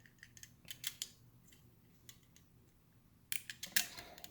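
Scissors snip through material while a JBD smart BMS is set up on a 16S 48V LiFePO4 battery, several quiet, close crisp cuts, with a quicker cluster of sharper snips near the end and no speech.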